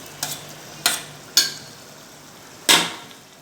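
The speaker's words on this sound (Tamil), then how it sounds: "அதையும் ஆட் பண்ணிட்டு கொஞ்சம் கொஞ்சம் நம்ம அப்படியே கிண்டி விட்டுடலாம்" Curd is stirred into a cooking dish with four separate scraping strokes of a spoon, sharp and close, separated by short quiet pauses.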